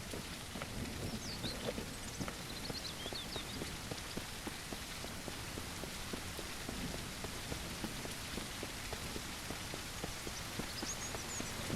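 Rain falling in the survival video game Mist Survival, a dense, steady hiss of drops at an even level throughout, with faint bird chirps now and then.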